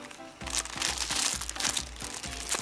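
A parcel's plastic packaging is crinkled and torn open close by, with continuous dense rustling and tearing over a steady low hum.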